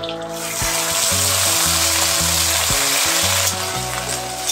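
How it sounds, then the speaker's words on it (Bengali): Green peas sizzling in hot oil in a pan for peas pulao, a steady loud hiss of frying running throughout with no talk. "একটু মটরশুঁটি একটু ভাজবো।"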